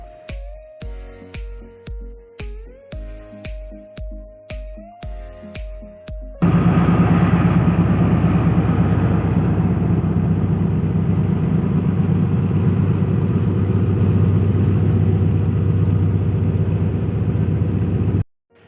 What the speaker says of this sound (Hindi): टू डाउन के इंजन ZCU30 6301 की साउंड पिक करने के बाद